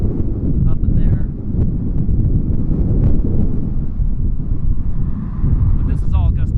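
Strong gusts of wind from a supercell storm near Rock River, Wyoming, roar and buffet against a microphone outdoors, a loud continuous low rumble with faint voices in the background.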